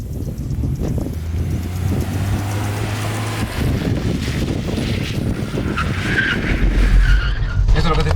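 Car drifting on a wet track at a driving school, engine droning and tyres hissing and skidding in long sweeps, with wind buffeting the microphone and speech over it.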